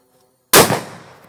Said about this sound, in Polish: Myślałem, że to mała petarda jest.